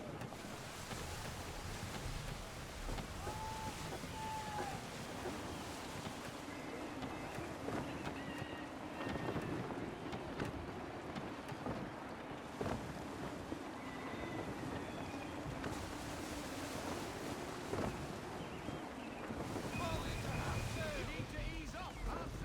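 Gusty wind and ocean waves at sea in Assassin's Creed 3 aboard a sailing ship, with a constant broad rushing of wind and surf while voices occasionally speak over it.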